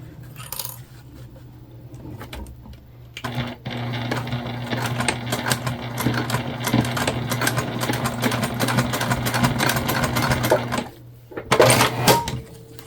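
A sewing machine bastes fabric pieces for a candy bag, running in a fast, steady mechanical whir for several seconds, close up, with quieter clicks and handling before and a short burst after.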